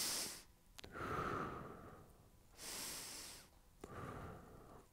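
Deep breaths during a chest-opening stretch: slow, close, audible inhales and exhales through the nose, about two full breath cycles with snort-like rushes of air and no speech.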